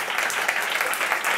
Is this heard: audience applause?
yes